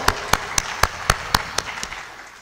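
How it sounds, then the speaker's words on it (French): A conference audience at an artificial intelligence for development event in Rabat gives sparse applause, a few sharp, evenly spaced claps about four per second that soften and fade out over the last second. "Je vous demande de lui faire une vraie ovation, d'applaudir"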